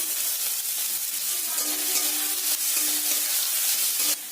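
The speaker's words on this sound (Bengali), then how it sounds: "আলুগুলোকে ভালো করে লাল লাল করে ভেজে নিতে হবে ওই আলুর মধ্যে দিয়ে দেব কুচিয়ে রাখা গাজরগুলো" Potatoes and chopped carrots fry in a pan with a loud, steady, hissing sizzle that fills the whole stretch before easing off slightly at the end.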